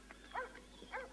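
A dog gives two short, soft barks or yips about half a second apart, moderately close, against a quiet room background with no talk.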